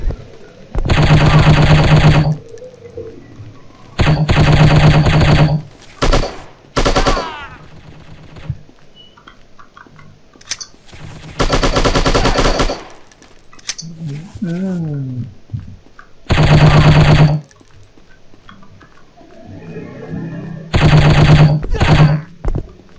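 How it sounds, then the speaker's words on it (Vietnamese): Enemies and the player trade gunfire in the shooting video game Striker: loud bursts of automatic fire, some long and some short, separated by quieter gaps with faint effects and a voice. "bọn này bắn rất ác đấy"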